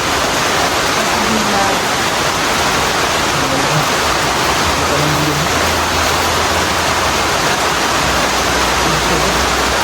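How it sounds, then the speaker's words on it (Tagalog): Heavy rain pours as a dense, continuous roar, loud and close throughout, with a faint low hum beneath it and no clear voices. "Lakas ng ulan."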